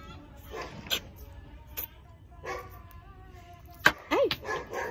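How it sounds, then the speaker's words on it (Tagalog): Several dogs bark outdoors in scattered, sharp yelps, some distant and one louder burst near the end, with quiet background noise between. "Ayan na, nagsimula na yung mga aso."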